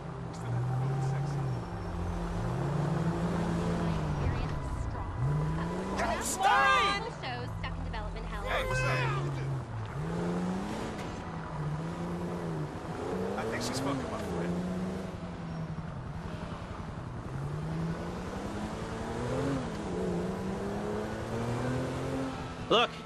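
A car in Grand Theft Auto V drives through city streets, its engine revving up and down repeatedly through gear changes with occasional tire squeal, under in-game dialogue.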